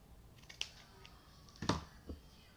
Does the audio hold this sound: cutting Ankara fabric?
yes